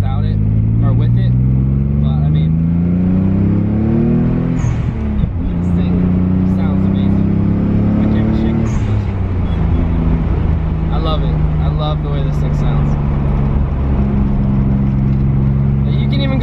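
A Nissan 300ZX exhaust, straight pipe to an HKS muffler, drones loudly and steadily, its low tone rising and falling with engine revs, while someone talks over it.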